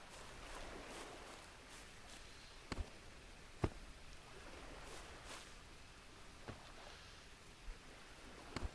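Steady rain falls in the voxel survival game Dead Reach, a soft, even hiss with occasional faint ticks and splashes, heard alone at a low level.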